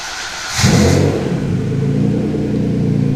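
A twin-turbo 2.9 Cosworth engine in a Ford Capri cranks and fires, then roars as it is revved and settles into a loud, rough, close idle.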